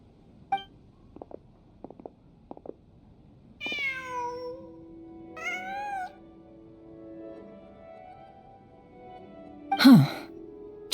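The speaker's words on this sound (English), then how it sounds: "Just a cat." A cat in the Genshin Impact video game meows a few times in drawn-out, wavering calls, close and fairly quiet, among brief clicks and soft game ambience.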